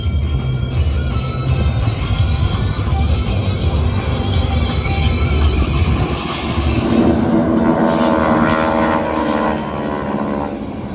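WWII airplanes of the GEICO Skytypers fly in two fixed formations toward the crowd at the 2020 New York International Airshow, a loud, continuous propeller roar that swells and shifts as they pass.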